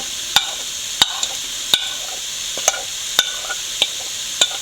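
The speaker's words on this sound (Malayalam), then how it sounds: "പൊടികളുടെയൊക്കെ ഒരു പച്ചമണം മാറുന്നിടം വരെ നല്ലപോലെ വഴറ്റിയെടുക്കണം" Chili and coriander powder being sautéed in a pan for Kerala-style rabbit curry: soft sizzling under sharp, evenly spaced scrapes and taps of a spoon stirring against the pan, close up.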